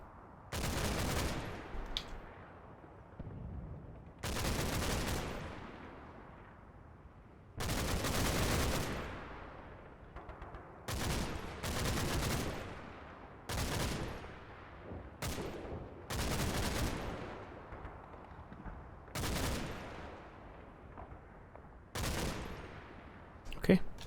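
Small arms fire in the WWII game Combat Mission: Battle for Normandy crackles in repeated sharp bursts, about a dozen volleys of rifle and machine gun shots spaced through the scene, each loud and quickly fading.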